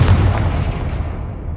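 A Confringo fire spell bursting in the video game Hogwarts Legacy, a loud deep boom with a rumbling low-end blast that fades over about a second and a half.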